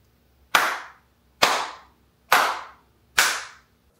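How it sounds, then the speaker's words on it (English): Four sharp hand claps spaced evenly about a second apart, each ringing with a short reverberant decay in an untreated room with bare walls, recorded from near the listening position with no other sound. "Let's start with a clap test."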